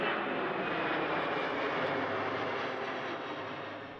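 An MV-22B Osprey tiltrotor aircraft in Microsoft Flight Simulator gives a steady, dense engine and rotor roar, loud and constant throughout, easing slightly toward the end.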